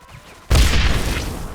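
A grenade explodes in the video game Mafia 2 with a sudden loud blast, after a short quiet lead-in, and a heavy rumbling roar that slowly fades over the following second.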